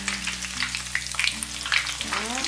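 Shrimp and sweet potato fritters fry in a pan of oil with a steady, close crackling sizzle, joined by some stirring or spreading noise and a low background hum, with no talking.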